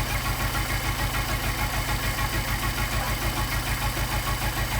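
An engine fitted with Solex carburetors runs with a loud, steady, pulsing idle and a rapid rhythmic throb that wavers slightly in speed, with nothing else audible alongside it.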